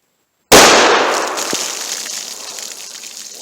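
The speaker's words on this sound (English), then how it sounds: "Now let's try the 357 Magnum and see how that compares." A single loud, sharp .357 Magnum handgun gunshot cracks out after a moment of silence, its broadband blast decaying into a long ringing tail.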